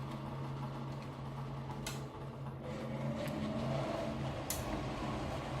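An electric fan runs steadily with a constant hum and whir, a few faint clicks and knocks sounding over the motor drone.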